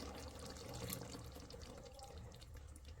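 First coconut milk pours into a pot of cooked chicken stew, a soft continuous liquid trickle heard faintly and close, with no talking.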